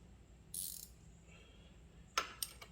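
A gear wrench on a pulley puller ratchets on a Cadillac in a speed shop, with a few crisp close clicking bursts between quiet stretches.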